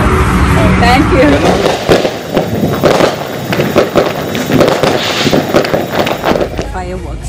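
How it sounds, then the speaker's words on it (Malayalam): Fireworks and firecrackers burst at an American Fourth of July celebration, a rapid irregular string of loud cracks and pops, some whistling, over crowd noise and wind. "5-6 ബില്യൺ ഡോളറിന്റെ പടക്കമാണ് കേട്ടോ ഇന്നേ ദിവസം ഇവർ പൊട്ടിച്ചു തീർക്കുന്നത്"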